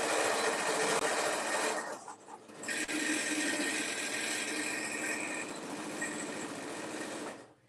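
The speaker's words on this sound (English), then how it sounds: "Now, I do backstitch on my corners just because I want to make sure they're nice and secure." A sewing machine runs in a steady close whir while backstitching the corners of a patchwork cosmetic bag, pausing briefly partway before continuing at an even, rapid pace, with no voices.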